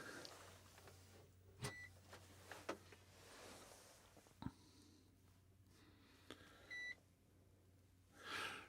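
Goldenmate UPS 1000AV switching to battery after its power cord is pulled, sounding short, faint electronic beeps at intervals amid quiet room noise and handling clicks.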